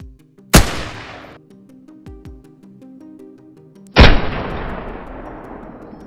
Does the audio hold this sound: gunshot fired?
yes